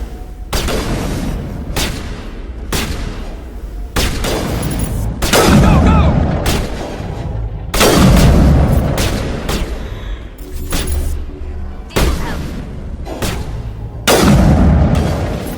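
Weapons fire in the Mass Effect video game comes as loud, booming bursts of shots every second or two, with explosive thuds between them.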